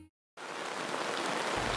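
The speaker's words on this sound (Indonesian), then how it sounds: "tenda kami diguyur hujan dengan suasana yang sejuk" Steady rain pattering on a tent at a campground after coffee harvesting, a dense, continuous hiss that starts abruptly after a brief silence and holds at an even, moderate level with no voices.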